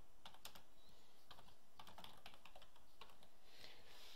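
Someone types a name on a computer keyboard, quiet irregular clusters of key clicks over a soft background hum, with no talking.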